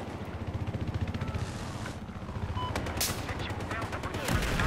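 Gunfire in Battlefield 4 is heard as rapid automatic bursts followed by heavier blasts, loud and continuous throughout, with a rumbling vehicle-like background.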